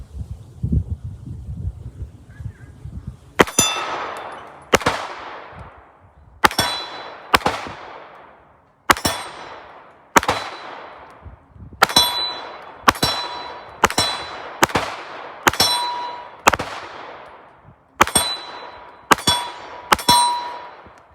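A PSA Dagger Gen 1 9mm pistol fires fifteen sharp, loud shots at a steady, slightly uneven pace, each crack ringing out and decaying into echo, with quiet low rumble before the first round.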